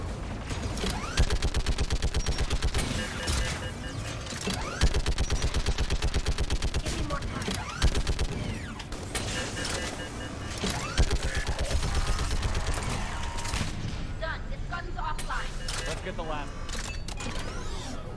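Turret gunfire in a Mass Effect 3 combat scene, a sustained loud rattle of rapid shots running through most of the stretch with brief pauses, mixed with mechanical clatter, and voices talking over it.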